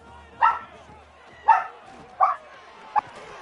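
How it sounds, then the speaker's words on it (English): A dog barks four times in short, spaced yelps, moderately close, over a quiet background. "Sorry if you hear my dog barking there."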